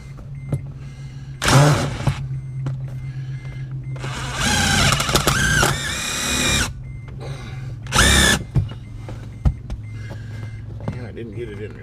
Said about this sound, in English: let me go ahead and get the radio bolted down to the floor now